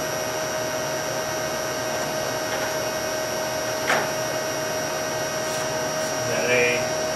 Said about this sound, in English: I'm going to go ahead and run her through the speeds, the different feeds, so you can see it working on all the feeds